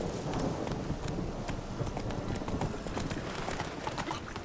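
Hooves of Roach, a horse in The Witcher 3, clip-clop steadily at a trot under a dense wash of game ambience and rain, the footfalls continuous and mid-distance throughout.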